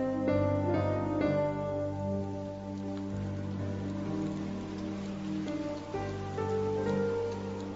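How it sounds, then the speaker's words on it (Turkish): Steady rain pours down with wind, a continuous hiss and patter, while low tonal hums sit underneath; no voices. "Hem rüzgar hem yağmur."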